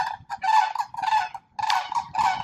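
Geese honk repeatedly in loud, close bursts with brief pauses between them beside a lake in a Florida community, with no talking.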